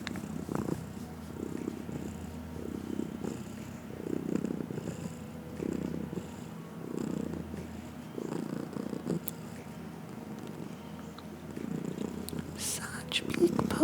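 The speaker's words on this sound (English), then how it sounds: "Such big purrs." A Persian cat purrs in a deep, rhythmic rumble, each breath pulsing about once a second, heard up close and fairly quiet.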